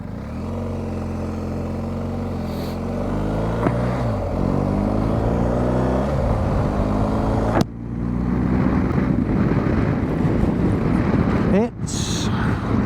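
A BMW R1250GS motorcycle with a quickshifter rides along, its engine droning steadily under wind rush as the pitch rises and drops through a series of gear changes, with a couple of sharp shift breaks.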